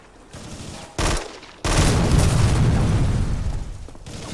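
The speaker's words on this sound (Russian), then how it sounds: "Не знаю, что я взорвал, но пока взрывается, буду взрывать." Video game explosions and gunfire: a short loud burst, then a sustained roaring blast with crackling shots, dense and close, filling most of the span without speech.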